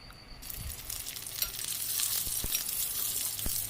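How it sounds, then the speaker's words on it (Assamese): Potato pieces sizzle in hot oil in a pan, a bright crackling hiss that builds and holds steady, broken by a few sharp pops and small stirring knocks. "একেটা তেলতে আকৌ মই আলুখিনিও ফ্ৰাই কৰি ল'ম।"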